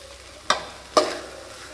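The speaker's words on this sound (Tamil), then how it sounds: "நல்லா மிக்ஸ் பண்ணி விட்டுக்கலாம்." Horse gram poriyal with grated coconut being stirred in a pan: two quick, close spatula scrapes over a faint sizzle, without speech.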